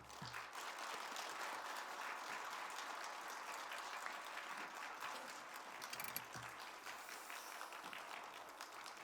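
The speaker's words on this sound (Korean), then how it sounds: "우리 선교사님 박수로 환영하겠습니다" A church congregation at a Friday Holy Spirit gathering applauds to welcome a missionary: broad, even clapping from many hands, sustained for about nine seconds and heard from some distance at low level.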